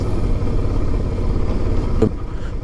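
Motorcycle engine droning steadily while riding a demanding, potholed road near Sielpia Wielka, a constant close, loud low rumble with no speech.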